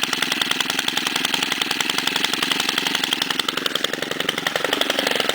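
Stihl FS130 string trimmer with a 36.3cc engine running after a cold start, a steady loud buzzing two-stroke idle with fast rapid firing pulses, close by and alone.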